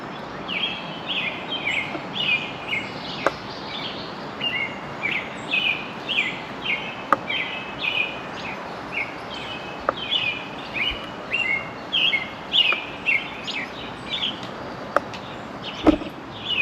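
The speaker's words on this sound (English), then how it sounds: "a quick listen to the bird song, typical of our backyard on a spring morning." Repeated bright bird chirps and short song phrases ring out steadily in an open outdoor space, with a few faint clicks in the background.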